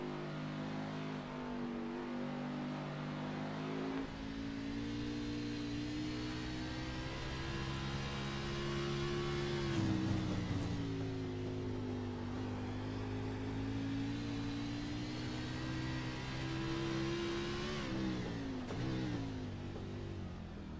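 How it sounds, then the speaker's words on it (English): Onboard engine of a race car lapping Sonoma Raceway in a sim racing game, a loud continuous engine drone rising and falling in pitch through gear changes and corners, with no talk over it. "we're going to ride on board with Zachary Lovelace for about a lap here."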